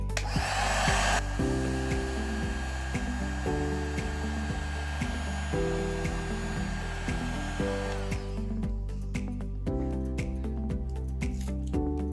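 Hair dryer or heat gun warming a PinePhone Pro screen to soften the adhesive, a steady near blowing roar with tonal hum and repeated short clicks and squishes throughout.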